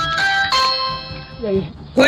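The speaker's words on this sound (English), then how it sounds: "Then the ring bell sounded" A doorbell rings on a home security camera at a front door, a few bright tonal chimes sounding close and clear, with a voice briefly heard toward the end.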